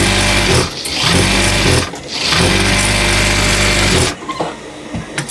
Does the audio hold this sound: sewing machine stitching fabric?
yes